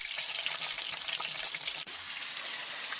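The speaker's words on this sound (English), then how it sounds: "The last ones are frying." Breaded schnitzels of beef and pork fry in a pan, giving a steady, close crackling sizzle that holds evenly throughout with no voices over it.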